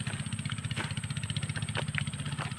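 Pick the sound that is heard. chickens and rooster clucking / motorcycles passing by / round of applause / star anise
motorcycles passing by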